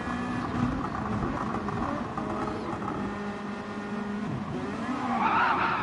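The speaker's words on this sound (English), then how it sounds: "now he just spins up the back wheel, back tyres in that first gear" A race car in a GR2 super cup race spins its rear tyres in first gear, a steady engine drone under sustained tyre squeal and skidding that swells louder toward the end.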